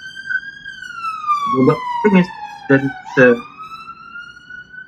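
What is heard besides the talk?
emergency vehicle siren passing outside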